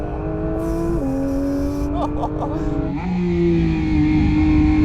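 A Porsche 911 GT3 engine pulls hard on a race track, its loud, steady drone climbing in pitch through gear changes, with a brief shift around the middle and a stronger surge of power near the end.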